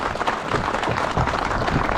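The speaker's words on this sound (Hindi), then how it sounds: "हम लोगों को उठना है और ताली बजाना" A village crowd in Dharali, Uttarakhand, clapping together at a community gathering: dense, loud, continuous applause of many hands, close and unbroken.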